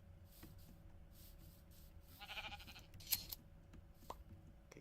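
Sheep bleating in Minecraft, a couple of short, faint calls over a quiet background, with a few soft clicks and thuds nearby and no talk.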